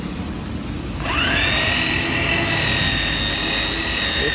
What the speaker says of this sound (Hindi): तो पहले पिन वाली चीज पे ड्रिल मारो